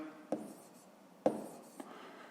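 Pen or pencil writing numbers by hand during a fifth-grade math exercise, a few soft close strokes and taps spaced apart against a quiet background, with no talk.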